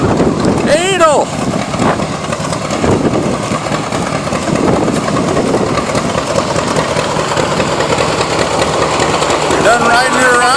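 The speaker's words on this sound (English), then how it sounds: "trying to start up one of the tractors, and he got it started up" A tractor engine runs steadily and fairly close, a continuous rumbling drone with wind buffeting the microphone, while voices talk over it at the start.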